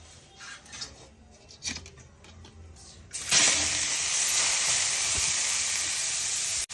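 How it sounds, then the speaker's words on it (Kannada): Carrots dropped into the same hot pan used for frying cashews: light handling noises give way to a sudden, loud, steady sizzle that holds until the end. "ಅದೇ ಬಾಣಲಿಗೆ ಈಗ ಕ್ಯಾರೆಟ್ ಹಾಕ್ತಾ ಇದ್ದೀನಿ"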